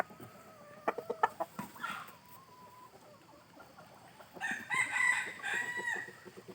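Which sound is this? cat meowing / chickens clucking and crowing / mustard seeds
chickens clucking and crowing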